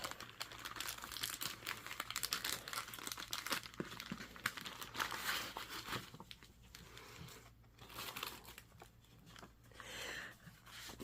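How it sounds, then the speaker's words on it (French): Crinkly plastic packaging on a cross-stitch kit being handled and opened, with steady close rustling and crumpling across the whole stretch, soft and continuous with small crackling bursts. "Et on va ouvrir le kit."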